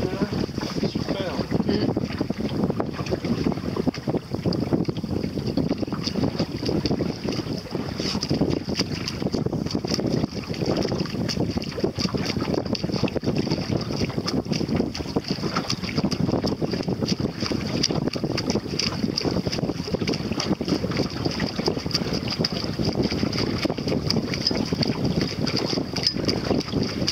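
Steady wind buffets the microphone while water washes along the hull of a Pacer 2 sailboat sailing in Morlaix Bay near Carantec, an unbroken, even roar lasting the whole stretch.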